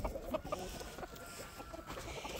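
Chickens and roosters on a homestead cluck busily and continuously, several birds close by with overlapping short clucks and no talking.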